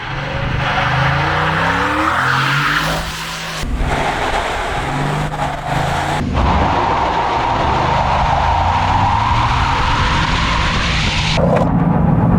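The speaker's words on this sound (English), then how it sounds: "Wheel spin, more wheel spin, Oh, too much." A 2024 Ford F-150 STX pickup launching in sport mode, its engine roaring loudly and steadily as the tires spin and squeal, continuous and close throughout.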